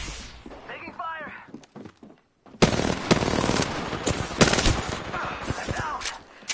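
Automatic gunfire rattles in Apex Legends, loud bursts crackling in sharp rapid volleys after a quieter opening with some game voice chatter, then continuing in dense close clusters.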